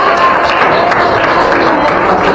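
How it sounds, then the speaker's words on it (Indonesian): A class of ninth-grade students claps for a classmate during a Hindu religious education lesson, steady dense applause filling the room with a few voices mixed in. "tepuk tangan untuk nomor 2 ya"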